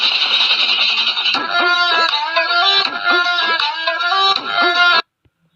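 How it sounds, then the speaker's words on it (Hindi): An Instagram Reels ringtone plays from a phone, a bright synthesized melody of repeated tonal notes that runs for about five seconds and then cuts off abruptly into silence. "तो ये आप लोग रिंगटोन जरूर सुने होंगे।"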